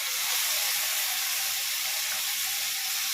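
Chopped tomatoes sauté in a pan over oil already cooked with ginger-garlic paste for an egg curry, giving a steady, loud, hissing sizzle throughout with no talk.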